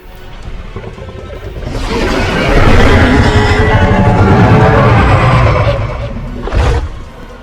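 An Indominus Rex roar from the Dinosaur Simulator video game swells into a long, loud, rough bellow lasting several seconds, then a brief second burst near the end, with no talking.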